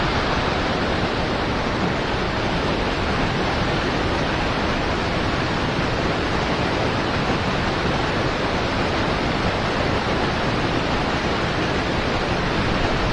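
Fox River water rushes around a fishing spot, a loud, dense, steady roar of flowing current that fills the whole stretch without break or voices.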